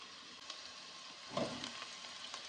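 Chicken for a Korean chicken curry sizzles in a pan with onion, a steady soft frying hiss broken by a brief louder crackle as pieces are stirred.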